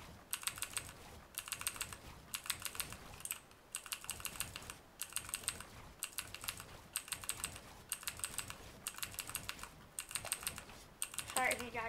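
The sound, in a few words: mechanical keyboard typing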